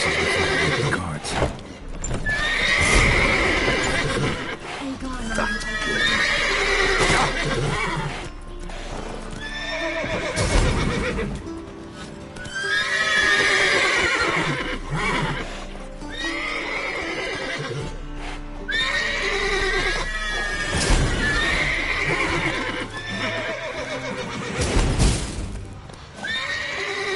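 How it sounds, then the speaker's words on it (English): Horses in the video game The Witcher 3: Wild Hunt: repeated neighs and whinnies over clip-clopping hooves, loud and close, recurring every few seconds, with someone talking over parts of it. "Gotta call all the horses with the cards."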